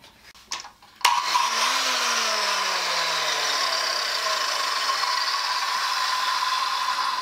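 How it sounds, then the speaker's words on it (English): A Sears Craftsman 7-inch electric hand saw spins up with a sharp start and then whines steadily as it cuts through a piece of oak, loud and close, its motor pitch sliding gradually lower under load. "I wanted to test this saw, and I wanted to test it against something that's fairly resistant."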